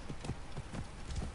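Horse hooves clip-clop in a steady rhythm of about six strikes, moderately loud and close, with no voices over them, from a rideable horse in an open-world video game.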